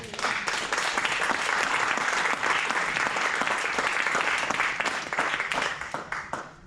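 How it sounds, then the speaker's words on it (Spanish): A church congregation at a prayer house claps together in praise, a dense, loud wave of applause that holds steady and then begins to thin and fade toward the end. "Denle un aplauso al Señor"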